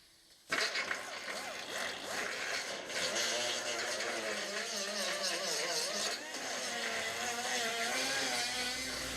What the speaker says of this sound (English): I'm going to go grind some up on there and just weld this up a little bit.